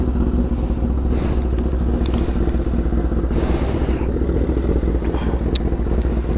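A motorcycle engine idles steadily while warming up, a loud, close, continuous rumble with faint clattering on top and no talking.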